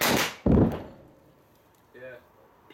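A seven-hole explosive blast in basalt rock for a pool excavation goes off as two heavy, sharp thumps in quick succession, booming loudly and then fading, followed by a brief voice.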